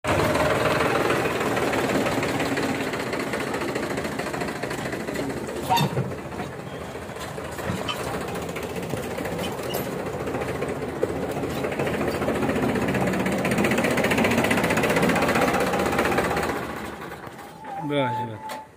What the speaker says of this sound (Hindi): आज की इस वीडियो में हम आपको दिखाएंगे ट्रैक्टर से चलने वाली स्प्रे मशीन के बारे में।